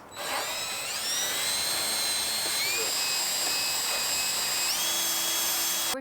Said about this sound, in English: What we're trying to do here is just sand away some of the old silicone that is still stuck on the trailer